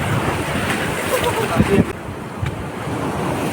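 Sea waves breaking on a shore, a steady broad wash of surf with wind rumble across the microphone throughout and a few brief louder splashes, with no clear speech.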